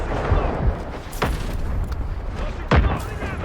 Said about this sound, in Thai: มันลงระเบิดอะ